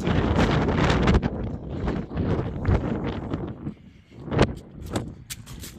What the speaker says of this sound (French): Regardez même le vent, c'est joli. Par contre, ouais, le vent, désolé.